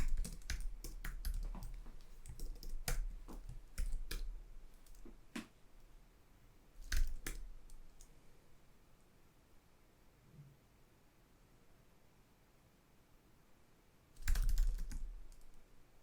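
Someone types on a computer keyboard in quiet, sharp bursts of clicks: a dense run at first, then sparse taps, then a short loud flurry near the end.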